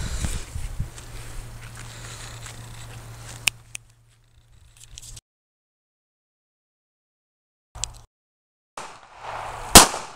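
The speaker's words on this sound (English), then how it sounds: "Just going to do some shooting and see what happens here." A handgun fires at a one-gallon milk jug target outdoors, giving a few loud, sharp cracks separated by stretches of near silence, with rustling noise around the shots.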